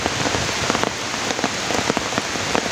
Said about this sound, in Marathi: पाऊस पण आता जोराचा येतो आहे.